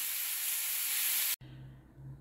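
Mushrooms dropped into a dry frying pan with no oil give a loud, steady broadband hiss that cuts off sharply partway through, followed by a quieter low sizzle and hum.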